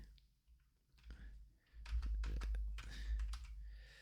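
Typing on a computer keyboard while entering a stock name into a charting site, a quiet run of close key taps that grows busier and louder through the second half.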